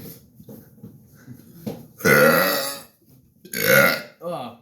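Two long, loud, extreme burps stand out from quieter grunting and breathing, followed by a shorter croaky burp at the end, with faint voices in the background.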